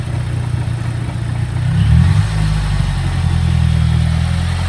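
A 2010 Mazdaspeed 3 engine idles low, then swells into a firm rev near the two-second mark and holds at a raised, steady drone, close and loud with no voices.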